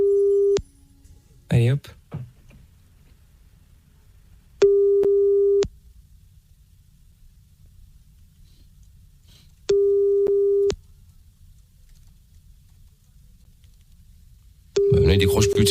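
Repeated telephone busy signal heard while calling someone back, in four separate bursts of steady beeping tone with silence between them, and brief talk cutting in at the start and end.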